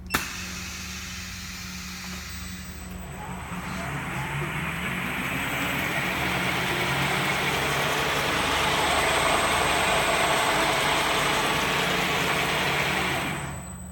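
A Koowheel electric skateboard motor runs on a factory test rig, a steady mechanical whine and hum that builds after a quiet start and holds continuously at moderate, close level with no talking.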